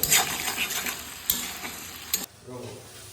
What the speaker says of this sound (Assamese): নিমখটো দিয়াৰ পিছত তো অলপ লৰাই দিওঁ